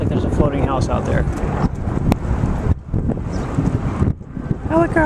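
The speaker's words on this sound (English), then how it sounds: "And it is still really windy." Strong, steady wind buffeting the microphone with a broad rushing roar, continuing under a person talking.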